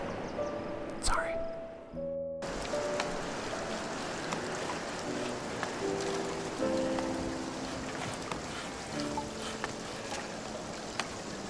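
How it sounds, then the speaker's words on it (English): A steady hiss of video game rain during the rainy season fills the background, with soft tonal chimes and a voice talking over it. "Oh no, the rainy season."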